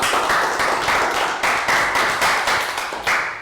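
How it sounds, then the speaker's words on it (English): A classroom of Year 3 pupils breaks into applause, a short burst of brisk, steady clapping from several children, close and lively throughout. "Round of applause for Nadia."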